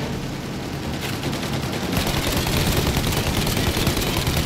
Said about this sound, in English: Shoot out the engines!